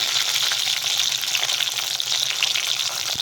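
Chopped tomato sizzles steadily in hot oil with black cumin and green chilli, a dense, even frying hiss that stays constant and close, with no voices over it.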